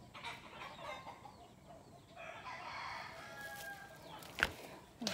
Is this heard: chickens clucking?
yes